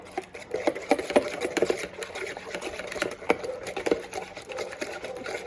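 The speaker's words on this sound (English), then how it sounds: "the first thing I'm going to do is whisk these eggs together" Eggs whisked together in a bowl for pumpkin bread batter make a fast, steady clatter of light taps and scrapes, close and fairly quiet, with no talking.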